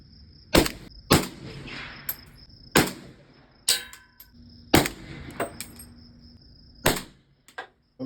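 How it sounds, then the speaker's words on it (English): Sharp rifle reports from Atomic 7.62x39mm 220 grain hollow point rounds crack out one after another, about eight loud separate bangs at uneven intervals, with quieter clinks and rustle between them. "All right, here go the first shot."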